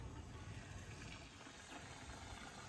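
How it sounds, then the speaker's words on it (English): Water runs steadily into a boat's empty water tanks at a dock, a continuous broadband gush and hum with no breaks and no voices. "filling up the water tanks that are very empty"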